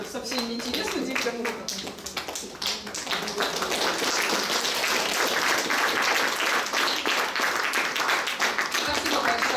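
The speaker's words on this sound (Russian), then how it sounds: "2 раза аплодисменты" An audience at an academic talk breaks into applause: after a brief spoken moment, dense clapping swells and holds steady and loud to the end.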